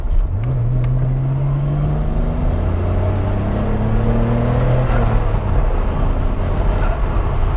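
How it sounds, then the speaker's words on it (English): Nissan Skyline turbos spooling while the car drives: a loud, steady engine drone fills the cabin, with whining tones that rise and glide as the turbos build. "And you can hear them damn turbos going."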